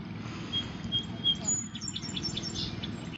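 Small bird chirps in a quick scattered series, faint and high, over a steady low rumble and a voice talking.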